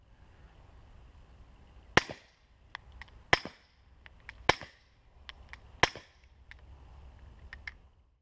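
Suppressed 9mm pistol shots from a SIG 226 fitted with a Rugged Obsidian 9 suppressor in full-size configuration ring out as four sharp, separate cracks, each about a second apart, with quieter ticks and clatter between them.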